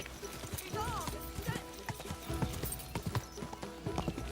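A horse's hooves clip-clop steadily on hard ground in a medieval game scene, with a rising whinny early on and voices talking over the busy hoofbeats.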